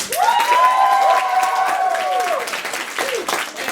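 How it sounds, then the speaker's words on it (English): Audience round of applause and cheering at an unscripted Shakespeare improv show, loud continuous clapping with whoops and shouts over it. "round of applause"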